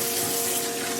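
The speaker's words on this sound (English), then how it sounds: "I like to rinse my face with cold water" Cold water runs steadily from a bathroom tap for rinsing a face, a continuous loud hiss of flowing water with a faint hum underneath.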